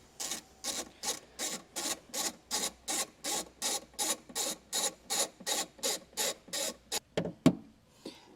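Socket wrench with extension loosening a nut on a 2023 Audi, a rapid steady run of about fifteen close ratcheting clicks ending in a sharp clack, with no talk.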